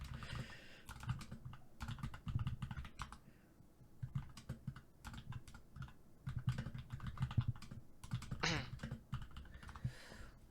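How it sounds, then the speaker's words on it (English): Quick bursts of typing clatter on a computer keyboard, close and crisp, with irregular flurries of keystrokes separated by short pauses, the clicks sounding alone without talk. "you get to hear the gentle ASMR on my keyboard"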